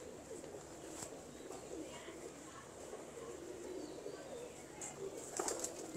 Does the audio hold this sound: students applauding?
no